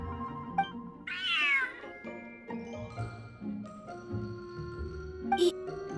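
A cat meows in the video game Genshin Impact, one drawn-out, rising meow near the start followed by softer mews and a short chirp near the end, set against a layered game music backdrop.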